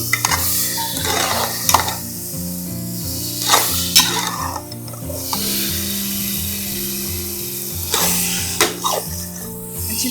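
Desi ghee sizzles as it is added to carrot halwa in a pan, with steady stirring scrapes and a low frying hiss throughout, no voices.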